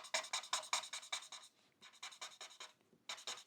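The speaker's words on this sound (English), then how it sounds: "I'm going to bring back in the chisel nib of our Arctic blue and really start that blend" A chisel-nib Arctic blue marker colours and blends across thick paper in quick, close, rhythmic scratchy strokes, with two short pauses between bursts.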